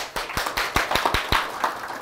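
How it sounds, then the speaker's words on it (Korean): Sparse claps from a small lecture audience in an insurance-adjuster exam prep class: a handful of separate, fairly close hand claps in an uneven rhythm, with no sustained applause. "좀 박수 한번 칠까요 그냥?"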